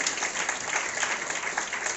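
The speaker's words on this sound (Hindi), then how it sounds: "एक बार सभी अपने ही स्वागत में जोरदार तालियां बजाएं।" An audience at a Mahashivratri spiritual gathering in Multan Nagar claps loudly and steadily, a dense, even wash of many hands that continues throughout without pause.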